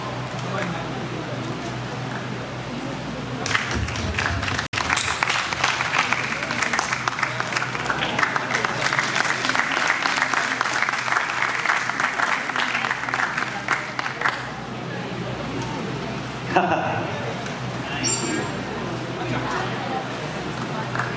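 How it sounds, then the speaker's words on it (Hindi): An audience at a Hindi poetry festival bursts into applause, a dense wash of clapping that swells and lasts about ten seconds before fading, with a short cheer later, over a low room hum and some talk. "ये तालियां आपके प्रेम को जाहिर करने का एक बहुत ही सुंदर तरीका है।"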